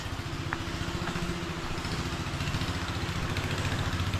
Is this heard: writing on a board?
no